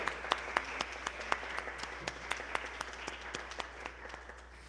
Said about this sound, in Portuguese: Uma salva de palmas a Deus.